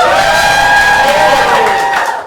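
A theater crowd at a live improv comedy show cheers, whoops and shouts together for a couple of seconds, loud and close, holding steady before tapering slightly at the end.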